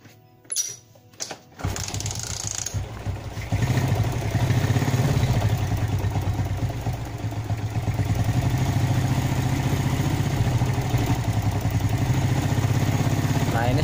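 A motorcycle with a sputtering carburetor fault is kicked or cranked and catches, then settles into a loud, close idle with an uneven, stuttering rhythm that continues to the end.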